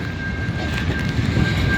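Near prairie silos, a grain train rolls past with a continuous low rumble and steady rail noise, fairly loud and without voices.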